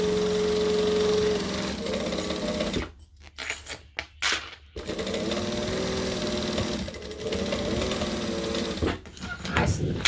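A sewing machine runs a steady top-stitching seam on an overnight bag hacked from a Raggabrash pattern, the close mechanical whir breaking off mid-clip into a few short stop-start bursts before settling back into a continuous run.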